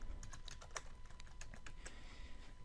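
A computer keyboard clatters with quick, irregular keystrokes while a Minecraft command is entered, close and quiet with no talk.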